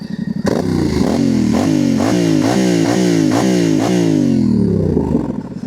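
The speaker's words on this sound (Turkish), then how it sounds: "Şöyle bir motorun sesini dinleyelim." A motorcycle engine revs hard in a forest, climbing and dropping in about six quick, loud, close throttle blips with rattling mechanical clatter before settling back toward idle.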